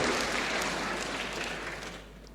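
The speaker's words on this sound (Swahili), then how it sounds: "Tumpigie makofi mazuri." A crowd at a Kenyan gathering welcoming a member of parliament from Nyeri gives a dense round of clapping that starts loud and gradually fades away.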